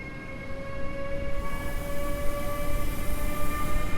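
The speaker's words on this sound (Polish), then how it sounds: "EU200 startuje." An EU200 electric locomotive pulling away from Warszawa Zachodnia station at night, a steady rumbling roar with sustained tonal whine lines building gradually, heard fairly close with no voices.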